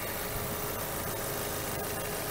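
A 2008 Audi A4 Avant's 1.8 litre petrol engine idles smoothly, a steady, even hum with a faint rhythmic ticking and no other sounds.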